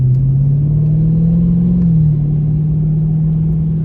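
A car engine drones steadily as it drives through fresh snow in northern Illinois, a low continuous rumble with a slight rise in pitch midway, close and loud throughout with no talking.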